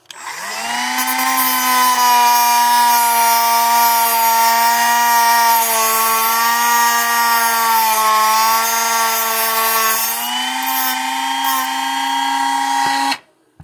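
A grinder runs steadily against an RC car rear differential outdrive, giving a loud, sustained whine that shifts slightly in pitch near the end before it cuts off.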